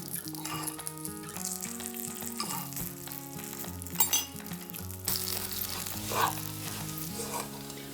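Nutty mazurek filling frying in a pan until browned, with cocoa added partway; a quiet steady sizzle runs beneath background music, punctuated by a couple of clinks and stirring sounds.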